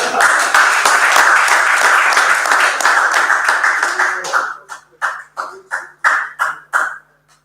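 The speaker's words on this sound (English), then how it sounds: "Let's give them a round of applause" An audience at a virtual unveiling function gives a round of applause: dense, loud crowd clapping that thins out into a handful of separate, spaced claps before stopping.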